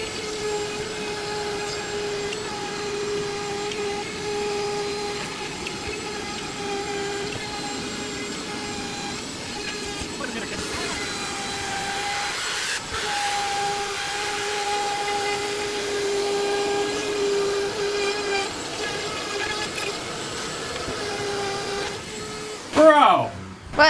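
A vacuum cleaner runs steadily and loudly throughout a bathroom remodel, its whine holding a constant pitch with a slight shift midway, and a brief voice breaks in at the very end.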